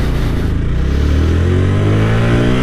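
Honda Grom motorcycle engine at full throttle on the road, a loud close buzzing drone climbing steadily in pitch as it pulls through the gear.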